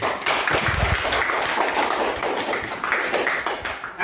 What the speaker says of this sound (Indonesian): tepuk tangan lu semua